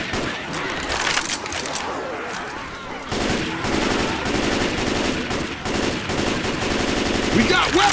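Rapid automatic gunfire in the zombie shooter game Left 4 Dead, loud sustained bursts of machine-gun fire with voices shouting over the fighting.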